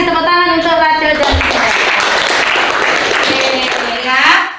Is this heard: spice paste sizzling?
no